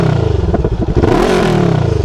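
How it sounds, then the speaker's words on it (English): A Honda SCL500 motorcycle's exhaust, picked up close to the pipe, revs in quick blips with a throaty pulsing rumble and a light crackle, rising in pitch as the throttle opens. "I wonder if I could put the microphone down here and have it pick up the exhaust"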